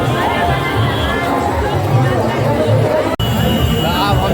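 A dense crowd chatters and mingles at the Rajgir Malmas mela fair, loud overlapping voices forming a continuous close babble.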